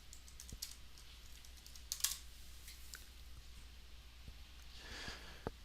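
Scattered keystrokes on a computer keyboard, light and irregular with small pauses, faint against a quiet room hum, with a slightly sharper burst of clicks near the middle.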